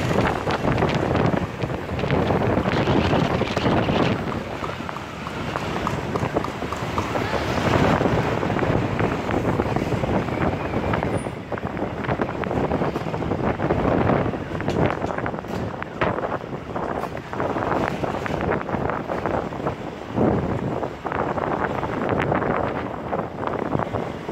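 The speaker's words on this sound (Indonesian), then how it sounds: "Nah, jadi angin di sini cukup kencang saat ini ya." Strong wind buffeting the microphone outdoors while touring the town of Pondok Baru in Bener Meriah, Aceh, a constant loud roaring rush with gusty swells throughout and no talk.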